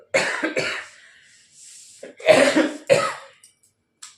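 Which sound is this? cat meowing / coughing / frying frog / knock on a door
coughing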